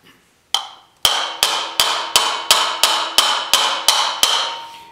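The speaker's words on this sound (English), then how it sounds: "I'm going to be striking down on the bottom line, basically bumping that metal" Hammer lightly bumping a metal motorcycle fender panel on a dolly, about a dozen close, sharp, ringing strikes at an even, steady pace after a couple of initial taps.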